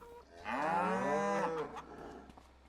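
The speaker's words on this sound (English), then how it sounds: "So we have... yeah, 5 cows out of 15." A cow in a crowded barn in the video game Farming Simulator 25 gives one long, loud, drawn-out moo lasting over a second, with quieter barn sounds after it.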